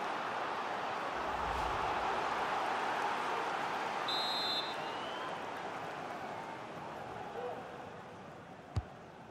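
Stadium crowd noise from EA Sports FC 24 during a Wolves versus Manchester United Premier League match, a steady loud roar building as a corner kick is taken, easing slightly toward the end with a sharp thud near the close.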